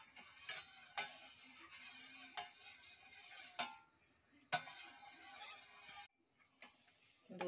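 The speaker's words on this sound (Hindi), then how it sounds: "दूध को लगातार चलाना होगा" Milk being stirred constantly as it boils down for walnut kulfi, quiet scraping strokes with sharp clicks of a spoon against the pot at irregular intervals, faint bubbling between them, close by.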